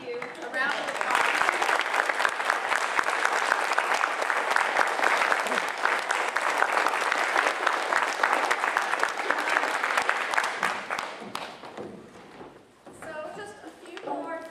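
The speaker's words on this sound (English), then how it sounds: "A round of applause." Audience applause after a school play: dense, continuous crowd clapping for about twelve seconds, then trailing off into scattered claps with voices talking.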